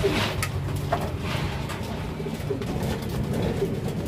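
A racing pigeon coos steadily and close by, its low, throaty calls repeating over continuous background noise, with no one speaking.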